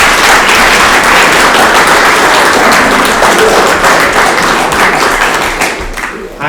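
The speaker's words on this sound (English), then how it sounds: "would you please give a big round of applause to our familiar friend" Loud, dense applause from a concert audience greeting a cellist taking the stage, sustained clapping that fades slightly toward the end.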